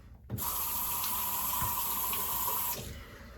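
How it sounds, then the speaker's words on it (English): Cold tap water runs from a faucet into a mug in a steady, loud, close gush for about two and a half seconds. It starts abruptly and stops abruptly, with no talk. "I like to take my mug nowadays, fill it with cold water, and then just pour it on my neck."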